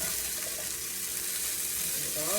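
Hash browns made from scratch sizzle steadily in a pan while being flipped, a continuous close frying hiss with a brief clatter of stirring and turning near the end.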